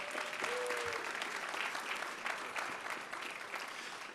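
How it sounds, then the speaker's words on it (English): A crowd at a community walk celebration applauds students, a dense, sustained burst of many clapping hands heard close and evenly loud throughout. "I think all those students need a round of applause as well"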